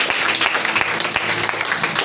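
A church congregation claps and applauds to acclaim the Lord during a French-language prophetic prayer service, a steady roomful of hands with sharp individual claps standing out, close and fairly loud.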